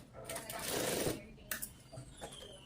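A sewing machine runs a rough stitch about a quarter inch along a fabric edge, with a close, steady burst of rapid stitching that stops and is followed by a few brief clicks and shorter whirs.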